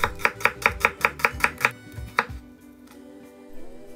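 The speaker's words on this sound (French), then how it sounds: "et on va ciseler l'échalote grossièrement" A knife chops a shallot on a board in a quick run of about eight sharp, evenly spaced close strikes, then one more chop before the sound trails off into quiet.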